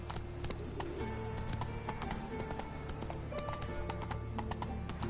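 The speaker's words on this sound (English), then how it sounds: "Run, Roach." A horse gallops through The Witcher 3 on PS4, hooves clip-clopping in a quick, steady rhythm under ambient game sounds and scattered knocks, with no talk.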